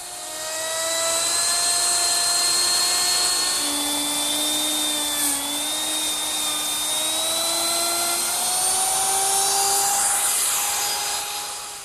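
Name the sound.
router with laminate trimming bit trimming laminate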